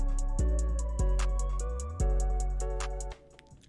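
808 bass programmed in FL Studio, deep booming notes that glide in pitch, several sliding bass hits in sequence with a sustained tail, alone with no talking.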